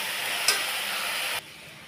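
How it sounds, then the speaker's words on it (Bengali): Ginger-garlic paste stirred and fried in a pan for a spicy eggplant dish, giving a steady broadband sizzle with one brief scrape near the start, then cutting off abruptly partway through. "একটু 2 মিনিট ধরে নাড়ব, যাতে আদা রসুনের গন্ধটা চলে যায়"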